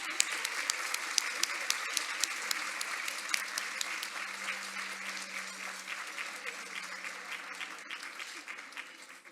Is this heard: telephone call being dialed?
no